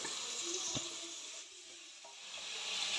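Potato and carrot pieces fry in a pan for vegetable noodles, giving a continuous close sizzle with a brief clink as they are stirred.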